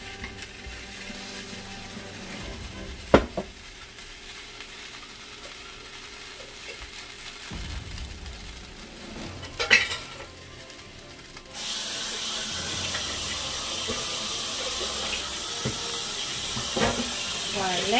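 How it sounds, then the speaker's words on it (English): Garlic fries in a pan for chop suey with bacon, first with quieter clattering and scraping, then a loud, steady hiss and sizzle that swells and holds close up. "Let's cook the garlic until it gets golden brown"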